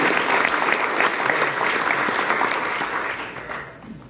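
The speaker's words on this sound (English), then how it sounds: "give a big round of applause to you for making it to San Jose at 9 a.m" Audience applause at a tech conference keynote in San Jose, loud and dense clapping from a large crowd that holds steady for several seconds before tapering slightly.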